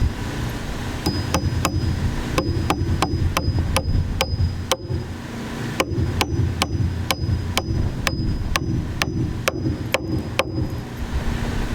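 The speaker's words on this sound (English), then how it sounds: "That one I just nail tight to the corner." Repeated sharp hammer blows drive nails into the corner of a log home under construction, striking in quick irregular bursts of evenly spaced hits, close and loud over steady outdoor background noise.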